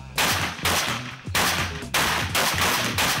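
Guns are fired at a shooting range open day, with a series of loud, close, sharp reports about half a second apart, each trailing into a brief echoing decay.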